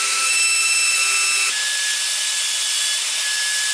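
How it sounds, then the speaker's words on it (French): Wood router cutting mortises in timber for the legs of a Roubo workbench, a steady loud high-pitched whine that shifts pitch halfway through and runs continuously without pauses. "vous avez pu voir dans ce petit accéléré la réalisation des mortaises, la défonceuse"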